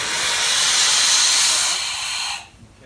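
Steam hisses from the bleed line of a 1900 Locomobile steam car's boiler, a loud, close, continuous rush that cuts off sharply after about two and a half seconds.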